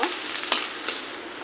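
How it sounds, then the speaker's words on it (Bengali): Chopped garlic and onion fry in hot oil in a wok, a loud, bright sizzle with a couple of quick stirring scrapes, close up and uninterrupted. "দিব রসুন কুচি আর পেঁয়াজ কুচি দিয়ে দিব এগুলো একটু ভেজে নিব"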